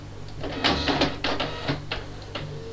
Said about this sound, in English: So let's print a test page to see if it works.